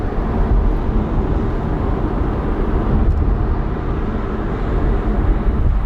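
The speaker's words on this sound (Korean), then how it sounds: "현재 시속 80km로 주행 중이고요." Cabin noise inside a BYD Seal electric car cruising at 80 km/h: a steady, loud low road and tyre rumble with a broad wind hiss, continuous and unchanging, with no talking.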